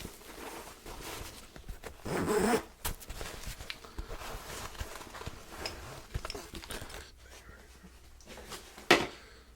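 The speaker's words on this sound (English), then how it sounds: "let's go ahead and unzip the thing" A zipper is drawn open on a soft case holding a Kimber .45 handgun, heard as a close rasping pull followed by shuffling and handling noises and a sharp knock near the end.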